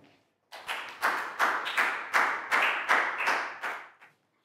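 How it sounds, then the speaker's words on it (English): Children in a classroom clap for a classmate in about eight quick, separate bursts, each sharp onset fading briefly before the next, close and fairly loud, ending with a short pause. "Big round of applause for Nadia"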